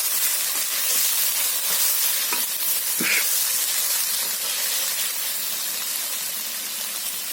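A vegetable pasta sauce simmers in a pan, giving a steady, even hiss and sizzle throughout, with faint pops and no talking.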